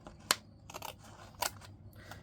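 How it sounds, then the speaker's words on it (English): Scissors snip along the edge of a paper envelope in a few quiet, crisp cuts with sharp clicks of the blades, close up and alone. "Now I am pushing the blade, this part, the top part of my scissors, up against the edge of the envelope when I do this."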